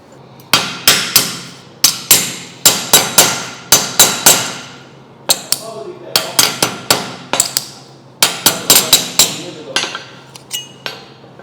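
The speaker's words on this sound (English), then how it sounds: "Hammer that again." Metal hammer blows strike a motorcycle exhaust pipe during fabrication of a dual exhaust for a Honda CBR/VFR 800 hybrid build, loud, close and sharp, coming in quick clusters of ringing hits with short pauses between bursts.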